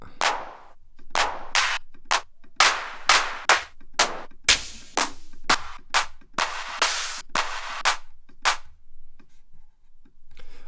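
Layered clap drum samples for a techno beat in Ableton fire in quick succession, dense sharp noisy hits in an uneven rhythm with short decays, loud and alone.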